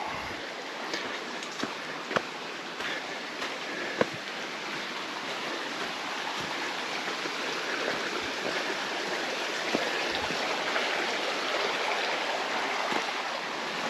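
Creek water flowing near Glen Falls, a steady broadband rushing and babbling wash with occasional faint clicks and knocks, continuous and close with no talking.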